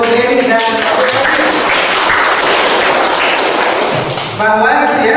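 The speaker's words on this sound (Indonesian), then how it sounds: "Berikan tepuk tangan untuk Denny" Classroom audience in a teaching session applauding a student, loud continuous clapping from a group with brief tonal voice fragments at the start and end.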